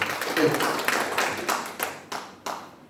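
A church congregation gives a short round of clapping, a burst of hands that fades into a few separate, spaced claps toward the end.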